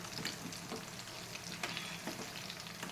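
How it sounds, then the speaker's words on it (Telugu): Fish fries in hot oil in a pan, turned to cook the other side, giving a close, constant crackling sizzle with scattered sharp pops and spatters. "ఇలా ఒక సైడ్ ఫ్రై అయిన ఫిష్ని ఇంకోవైపు కూడా తిప్పుకుంటూ వేపుకోవాలి"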